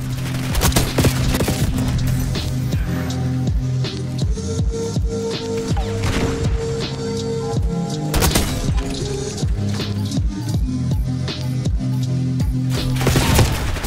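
Sniper rifle and other gunfire in the video game Black Ops 6, sharp repeated shots and bursts scattered over a steady game soundtrack, loud and continuous without speech.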